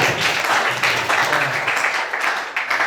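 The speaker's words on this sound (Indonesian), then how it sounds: "Aplaus dulu untuk kelompok 1." Classroom applause for a student discussion group after their presentation, a steady dense wash of clapping from many hands filling the room, with faint voices mixed underneath.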